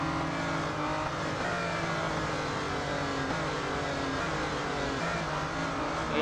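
An Aston Martin Vulcan AMR Pro races in Real Racing 3, its engine a steady, loud, continuous roar with gear-change shifts in pitch, alongside other racing cars and no talking.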